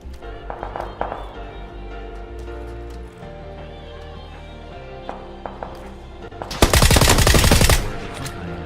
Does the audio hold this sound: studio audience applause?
no